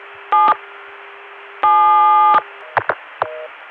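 Telephone tones sent over a long-distance line stacked with several extra links: short bursts and one longer harmonic tone, then a few brief clicks and blips, all sounding thin and muffled as if heard down the line.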